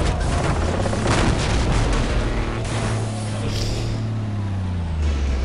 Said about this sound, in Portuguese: Esse caminhão aqui capotou muito fácil.